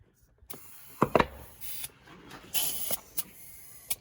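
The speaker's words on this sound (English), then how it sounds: "So you can see how the bladder gets inflated there. That's aired all the way up." The air-ride seat bladder in a Peterbilt truck fills, with faint hissing air bursts and small mechanical clicks and rattles coming in short, irregular spurts close by.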